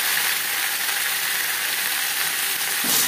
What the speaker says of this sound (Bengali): পেঁপের কাঁচা গন্ধ যাওয়া পর্যন্ত একটু ফোড়নের সাথে পেঁপে সাঁতলে নেব